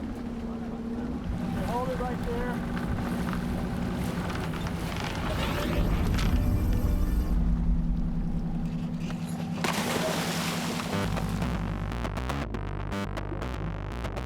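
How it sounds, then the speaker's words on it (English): A shark-diving boat's engines rumble and rev steadily over wind noise, with a voice speaking briefly over the loud, continuous drone. "the captain revs the boat's engines"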